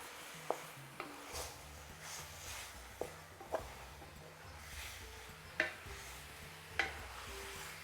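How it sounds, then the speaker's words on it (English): Meat cooking with chilli, coriander powder and other spices in a pan, a soft low sizzle under repeated scraping and clacking strokes of a spoon stirring it, close by, with no voices. "Let's turn all those in and really cook those into the meat"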